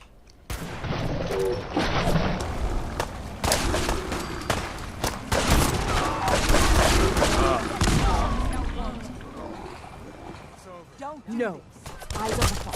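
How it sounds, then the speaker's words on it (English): Dense, loud volleys of gunfire and grenade blasts crash almost continuously in Fallout 4's Far Harbor, with voices talking over the combat. "Who's chucking grenades at us?"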